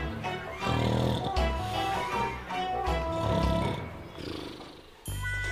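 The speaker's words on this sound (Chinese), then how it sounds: "这不是猪，是我姐在打呼噜" A sleeping person snores loudly in long, rasping, grunting breaths that sound like a pig, repeating in heavy waves, close and alone.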